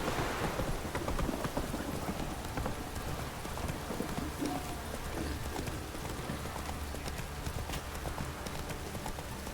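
Hoofbeats of Roach, a horse in The Witcher 3, clop steadily in a quick rhythm through steady rain, close and continuous with a soft wash of rainfall behind.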